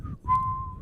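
A single sustained whistled note, briefly broken then held steady for most of a second, alone without talk.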